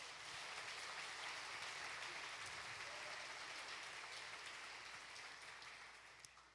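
Church congregation applauding, a steady dense patter of many hands clapping that holds for several seconds and then gently fades, fairly faint and distant in the room.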